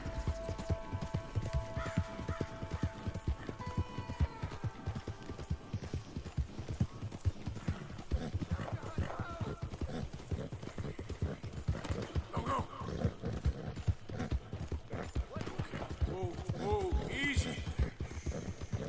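Hooves clip-clop steadily through a horse's movement in the video game Red Dead Redemption 2, with a nervous racehorse whinnying and neighing at moments, all under continuous talk from a player.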